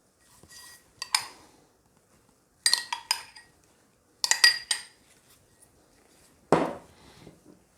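A few separate bursts of clinking and scraping utensils against a bowl of potato salad with Dijon mustard, with quiet gaps between them, close by.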